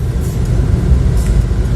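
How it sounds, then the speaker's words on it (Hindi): Steady low rumble of road and engine noise from inside a moving car, a continuous muffled drone with no talking. "भानु कर रही है ड्राइविंग और हम जा रहे हैं भानु के साथ"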